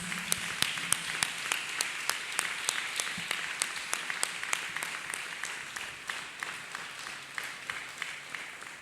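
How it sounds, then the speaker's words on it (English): A church congregation at a ministry fellowship service claps hands together in a steady unison rhythm, sharp evenly spaced claps repeating about three times a second for several seconds, fairly close and with no speech on top. "Let us clap hands for Jesus."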